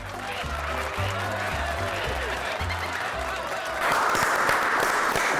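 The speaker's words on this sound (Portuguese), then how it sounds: "Todo dia tem aplauso aqui do pessoal de casa" Studio audience applause on a Brazilian talk show: clapping and crowd noise under a rhythmic low musical beat, swelling louder and fuller near the end, with some faint laughter mixed in.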